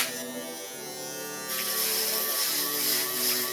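A foil shaver used for a skin fade haircut buzzes steadily at close range, its tone brightening and growing louder partway through as it presses against skin.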